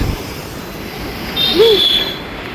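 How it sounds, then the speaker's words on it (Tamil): An elevated metro train passes overhead, heard from a car in city traffic: a low rolling rumble that swells midway, with a thin, high wheel squeal drawn out briefly over the noise. "மெட்ரோ போகுது மேலே"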